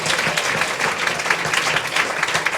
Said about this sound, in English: Can we get them another round of applause?